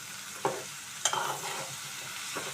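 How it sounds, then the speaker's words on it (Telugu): Large okra pieces hit a hot pan for a stew, giving a few sharp sizzling bursts followed by scraping stirring and a steady soft frying hiss, close and alone. "ఇప్పుడు మనం కట్ చేసి పెట్టుకున్న బెండకాయ ముక్కలు వేసేసుకుందామండి"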